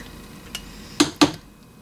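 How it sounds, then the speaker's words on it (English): The metal base of a stick blender, used for making liquid hand soap, is taken off and scraped, giving a faint knock followed by two sharp close metallic clinks in quick succession. "taking the base of the stick blender off before scraping it"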